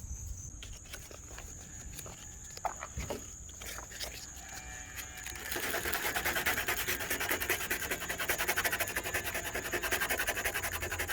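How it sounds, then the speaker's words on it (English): A car hood for an Evo X is sanded flat, with a steady, close, raspy rubbing that starts after some quieter scraping and then continues without a break. "So the bottom dried and I sanded it flat."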